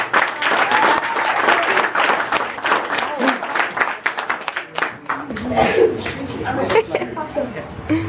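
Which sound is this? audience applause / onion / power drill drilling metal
audience applause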